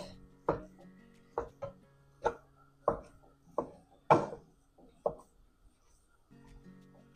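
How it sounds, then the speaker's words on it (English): Two pounds of ground beef broken up in a hot skillet for baked ziti: about eight sharp scraping and tapping strokes of a utensil against the pan, spaced roughly a second apart, over a faint sizzle with no talk. "2 pounds of meat is going to take a bit of time to break up. But we're breaking it up together in this skillet."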